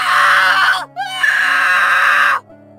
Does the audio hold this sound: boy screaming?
yes